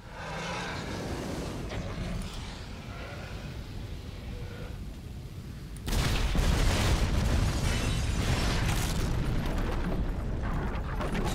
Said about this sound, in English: Cool guys don't look at explosion.